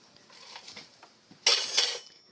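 Dishes and utensils clatter as a kitchen counter is cleared, soft faint clinks that give way to a brief, louder rattle of cutlery near the end.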